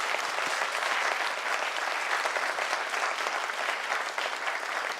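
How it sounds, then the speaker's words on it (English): Lecture audience applauding a professor after a public talk, steady dense clapping filling the whole stretch at an even level with no voices over it. "could we have another round of applause to Professor De Silva"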